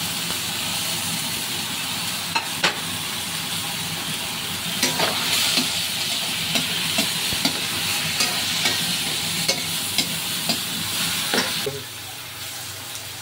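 Eggplant stew with squid and pork sizzles and fries in a pan while it is stirred, a loud steady hiss broken by scraping stir strokes and clinks, and the sizzle drops away near the end.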